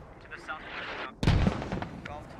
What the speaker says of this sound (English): the mortar is now coming in heavier